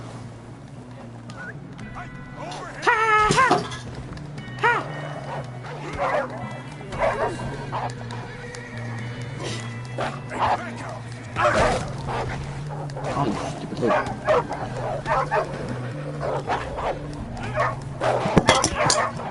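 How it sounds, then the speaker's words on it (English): Dogs in the Red Dead Redemption 2 video game, barking, yipping and whimpering in repeated bursts across the scene, with someone talking over them at times. "Aw, nice little puppy dogs."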